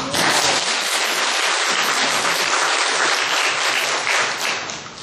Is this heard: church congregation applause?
yes